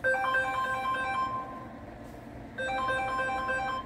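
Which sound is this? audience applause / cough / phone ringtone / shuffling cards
phone ringtone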